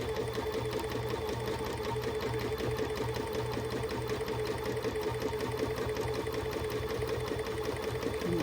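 A sewing machine stitches steadily across a charity quilt decorated with little soldier motifs, its fast, even needle rhythm running continuously and close throughout.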